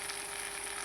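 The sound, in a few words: brinjal (eggplant) slices frying in a pan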